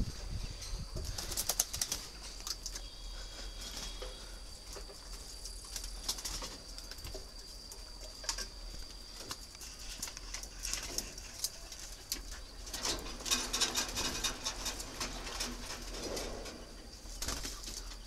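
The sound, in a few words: breeding spotted doves cooing and flapping in an aviary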